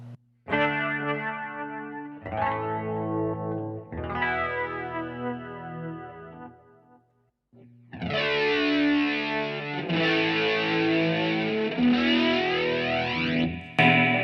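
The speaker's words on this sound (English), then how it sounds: "we're going to select a crunch guitar sound" A crunch electric guitar preset in Logic Pro X plays overdriven chords with chorus and echo effects, loud and close. Three short strummed phrases give way to a brief gap, then sustained ringing chords fill the rest, with no talking.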